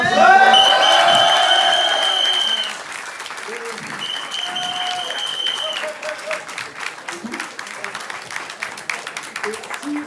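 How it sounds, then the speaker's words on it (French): Audience applause rises loudly at first, then settles into steadier clapping with scattered claps and a few voices, as the crowd cheers for people who came from Corsica. "un maximum d'applaudissements pour tous ceux qui sont venus de Corse le voir"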